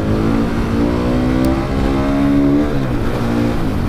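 A KTM 500 EXC supermoto engine revs loud and close, its pitch climbing steadily through the gears with a brief dip at each shift before pulling up again.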